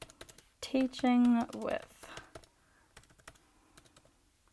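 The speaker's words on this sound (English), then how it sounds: "So let's type into Google Scholar," Quick clattering keystrokes on a computer keyboard as a search goes into Google Scholar, a short burst of typing heard close and clear, with someone talking around it.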